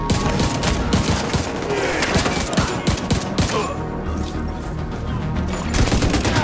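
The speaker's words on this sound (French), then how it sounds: "C'est quoi cette coups de feu que j'entends" Rapid, dense gunfire in the video game The Division 2 crackles continuously with overlapping shots and bursts, loud and close, like a heated firefight with no pauses.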